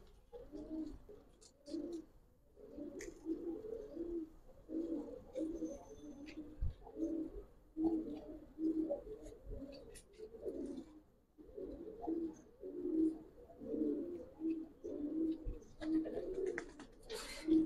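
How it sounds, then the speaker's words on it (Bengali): A pair of Giribaz pigeons, a subchil star male and a silver female, coo in a steady rhythmic series of close, muffled throaty calls that run almost unbroken, with brief pauses. "সাবচিল স্টারের কবুতর, নটটা সাবচিল, মাদিটা সিলভার"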